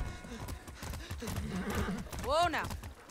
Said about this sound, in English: Oh, I have a horse. Mount horse.